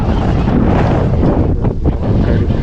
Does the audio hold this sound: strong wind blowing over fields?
yes